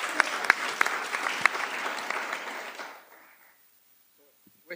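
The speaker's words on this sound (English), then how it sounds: "Applause for him, please." Applause from a conference audience at a panel session, a few sharp nearby claps standing out in the crowd before it fades out after about three seconds into quiet.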